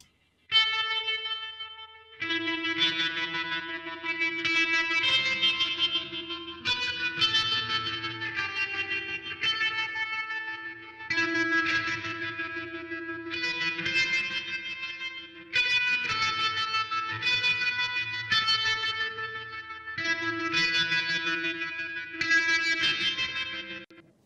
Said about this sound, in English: It had the effect of putting a little bit of air between the microphone and the amplifier itself. It makes it sound more distant